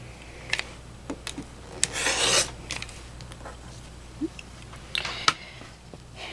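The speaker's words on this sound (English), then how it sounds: "and then I'm going to cut along there." Scissors or a rotary cutter slice through quilt fabric along a seam line in short, close rasping strokes, with one longer, louder cut near the middle and sparse clicks between, no one talking.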